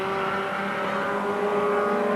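Race cars on a 1986 street circuit roar steadily at a distance, a sustained engine drone with no pauses and no voices.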